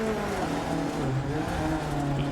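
Four-wheel drive rally car in the Dirt 2 VR racing game, a loud continuous engine drone with rising and falling revs, close and steady with no talking.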